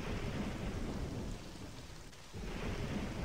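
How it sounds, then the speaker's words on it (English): Steady rain hisses against glass with a low rolling rumble of thunder underneath in a video game summer storm; the storm briefly softens before swelling back, with no voices. "Light rain pattered against the glass. The gentle noise punctuated by rumbles of coarse thunder."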